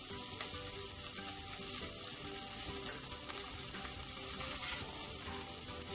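Paneer and vegetables cooking with biryani masala and chili powder in a frying pan, a steady close sizzle with scraping stirring sounds throughout, no voices.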